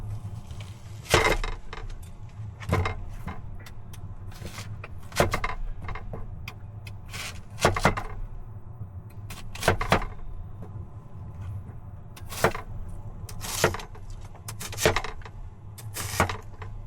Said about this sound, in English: I'm gonna chop this onion